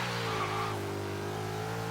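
Steady V8 engine of a Noble M600 in the video game Forza Horizon 3, holding a sustained droning rev with a slight pitch dip partway through, loud and alone.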